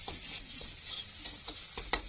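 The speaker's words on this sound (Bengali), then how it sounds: "মশলাটা এবার কষিয়ে নিচ্ছে দেখুন বন্ধুরা" Continuous sizzling with scraping and stirring sounds from a pan as spices including ground cumin are stir-fried for egg curry, with a few sharper clinks near the end.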